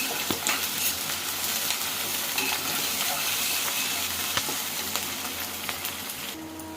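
Peanuts frying in oil for a semolina upma, a dense, even sizzle close by, peppered with small pops and clicks and faint stirring throughout.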